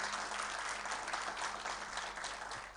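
A church congregation bursts into loud, sustained applause, dense clapping from many hands filling the room steadily and evenly.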